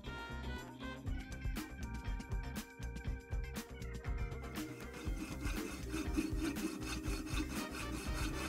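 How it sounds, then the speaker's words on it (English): Steady back-and-forth rubbing of fine sandpaper on a cast silver ring, a rhythmic scratchy rasp close up that runs on continuously, with faint clinking early on and no speech. "Lots and lots and lots of sanding with very fine paper."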